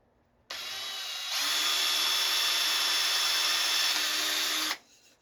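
A power drill bores a hole into a grooved panel during a Kangaroo-to-Dig Dug arcade conversion, running as a loud, steady whine for about four seconds and rising in intensity partway through before cutting off abruptly.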